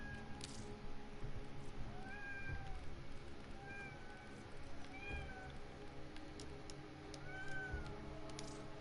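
A cat meows repeatedly at a moderate distance, several rising mews spread across a steady background of computer game hum and noise.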